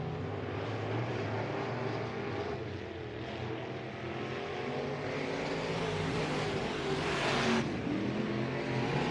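Dirt track race cars roar steadily at Southern Oregon Speedway, a dense, sustained engine drone from a distance with a brief swell near the end as one passes closer.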